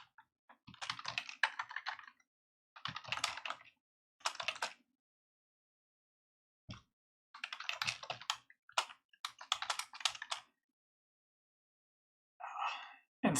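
Bursts of computer keyboard typing come in several separate runs of rapid clicking with quiet gaps between them, close and moderately loud, with no talking.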